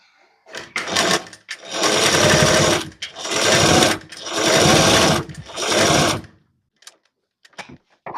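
A sewing machine stitches the side-fitting seams of a Jimmy Choo style blouse in four loud, close bursts of rapid whirring, separated by brief pauses.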